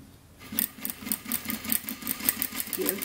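Sewing machine stitching bias binding, starting after a brief quiet moment into a quick pulsing run of needle strokes, close and moderately loud, with no talking.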